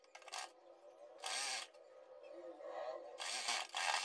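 A sewing machine stitches along the edge of a blouse hem in short bursts, a quiet rapid mechanical whir that starts and stops three times with pauses between.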